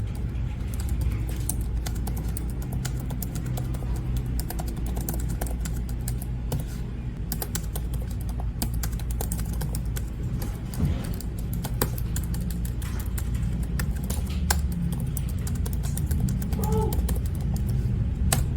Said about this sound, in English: To get a better idea on how good this keyboard is, listen to this.